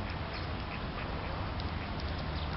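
Ducks at a waterside spot quacking repeatedly, several short calls over a steady rush of outdoor background noise.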